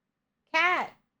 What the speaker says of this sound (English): My cat is meowing at the top of the stairs and she won't come down.